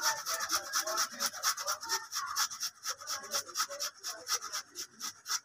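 Food is grated by hand in a home kitchen, with quick, rhythmic scraping strokes repeating about three times per second. The rasping is close and fairly quiet, and no one speaks over it.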